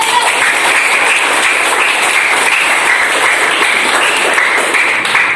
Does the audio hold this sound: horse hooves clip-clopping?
no